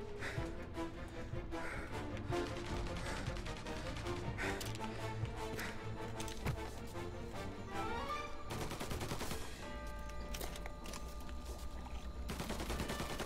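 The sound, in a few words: gunfire in the video game Mafia Definitive Edition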